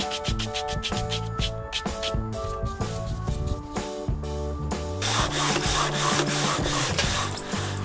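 Sandpaper rubbed back and forth over a wooden autogyro blade, giving a steady rasping scrape in quick repeated strokes, close and continuous, growing a little louder and harsher toward the end.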